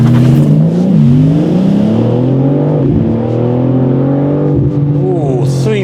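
BMW M4 CS launching hard from standstill without launch control, its engine note climbing loud and close through several gears with rising and dropping pitch at each shift.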